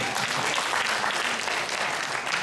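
Applause from a church congregation at a Sunday worship service, a dense, steady wash of many hands clapping that fills the whole moment at even volume, with no voices over it.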